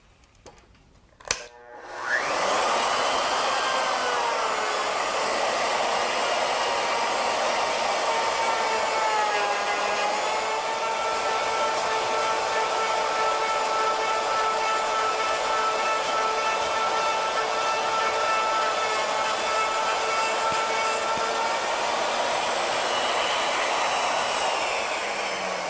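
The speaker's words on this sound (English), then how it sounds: "we're going to rotate the workpiece counterclockwise so that the workpiece comes up under the surface of the router bit" Router bit cutting into a rotating wooden workpiece, a sharp click followed by a loud steady high-pitched whine that holds evenly for over twenty seconds, with a slight dip in pitch midway.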